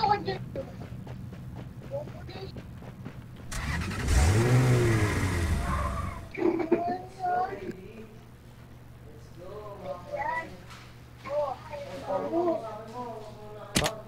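A vehicle engine in Rules of Survival revs up loudly for a couple of seconds, rising in pitch, then fades as Tagalog conversation carries on over steady game background.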